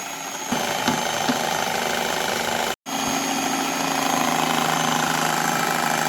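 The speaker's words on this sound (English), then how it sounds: "Blend it again using a beater until you get a smooth," An electric beater blends cake batter with cocoa powder in a steady, close, buzzing whir that holds constant apart from one very brief cut-out partway through, with no voices.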